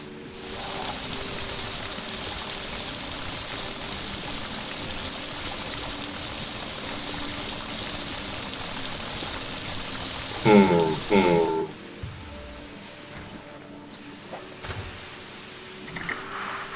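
Water pours steadily in the puzzle video game Vessel, a constant rushing stream for about ten seconds, then some clunks and quieter trickling as the flow fades.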